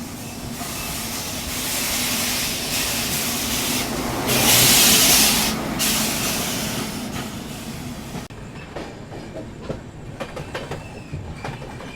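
A Humsafar Express on the Pune–Kolkata route pulls away after brake testing and runs along the rails: a loud, broad rolling rumble with hissing swells, easing into lighter rhythmic clatter of wheels over the track.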